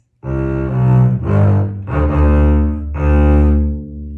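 A bass plays a short passage of sustained, deep notes, four or five connected tones with no talking.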